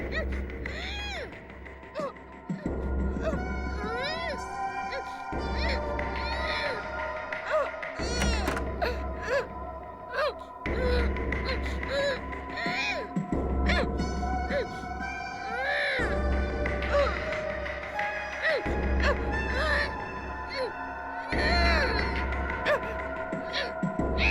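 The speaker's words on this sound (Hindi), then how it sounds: "रोने की आवाज इस कमरे से आ रही है।" Crying from a tape recorder in a room during a kidnapping scene in the TV crime drama CID, a whimpering, wailing sob that repeats in steady bursts of about three seconds over a low hum, with music underneath.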